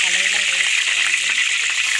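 Ground onions and green chillies sizzling in hot oil in a kadai for an Andhra-style fish curry, a steady close bright frying hiss with light stirring.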